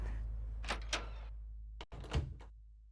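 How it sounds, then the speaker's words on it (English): A door shuts in the horror video game Eternal Darkness with a few soft thuds and a heavier thunk. A low, steady game hum runs underneath. "Why did I close the door behind me?"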